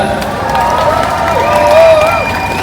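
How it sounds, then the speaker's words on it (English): Crowd clapping and cheering at a pro-Palestinian protest in Leeds, moderately loud, with a voice carrying over the top. "Everybody round of applause for Sister Aya."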